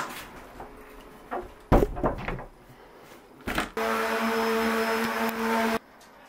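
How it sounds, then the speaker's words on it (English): A door in a laundry room under renovation shuts with a couple of sharp wooden knocks and thuds, followed by a steady mechanical hum that runs for about two seconds and then cuts off. "Close the door."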